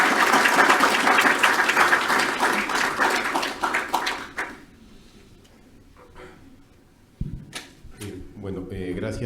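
An audience applauds to welcome an economist as speaker, dense clapping for about four seconds before fading into quiet, with a brief burst of sound and a voice starting near the end.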